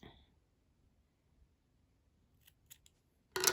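Scissors snip crochet yarn on a doll-sized summer top, a few quiet clicks followed by one sharp close cut at the end, set against near silence.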